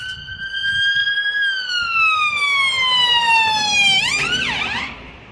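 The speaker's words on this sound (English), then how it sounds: "Hate hearing ambulances." An ambulance siren wails loudly past on a street in Waterloo-Crosby, Liverpool, its tone sliding and dropping as it passes, then quickly fading away.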